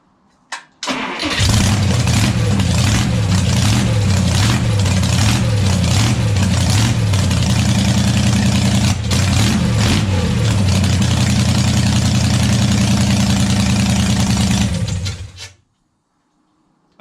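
An engine cranks and catches, then idles steadily and loudly for over ten seconds before being switched off into silence.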